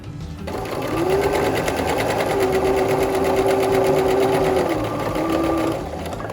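A sewing machine back-stitches across a fabric face mask, its motor whirring steadily and close for several seconds with a rapid needle chatter, a brief slowdown, then a short final burst.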